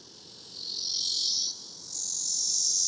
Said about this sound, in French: Et les cigales, là.